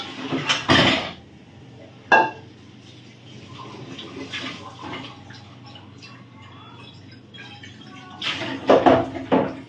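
Pot of cooked rice set down and covered with a plate in a small kitchen, giving a few sharp metallic clatters at the start and end with quieter clinks and handling noise between.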